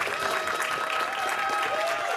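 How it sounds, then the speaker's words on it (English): A university debate audience applauds the candidates, with dense, steady clapping throughout and some crowd noise mixed in. "So let's give a round of applause to all the candidates"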